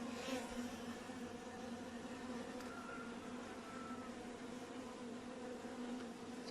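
Buckfast honey bees buzzing steadily at an open hive during an inspection, a dense continuous drone close to the listener with no talking.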